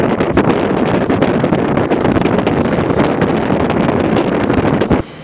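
Strong 30 to 35 wind buffets the microphone in rough, continuous gusts with sharp thumps throughout at an anchorage in Barrow Lagoon on the Arctic coast, dropping off abruptly near the end.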